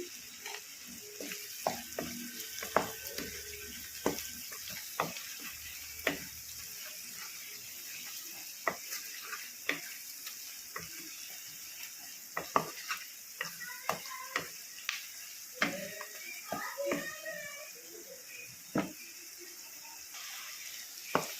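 Coconut gongura prawn curry frying in oil as chili powder goes in, a steady sizzle with frequent clinks and scrapes of a spoon stirring the pan, no voices.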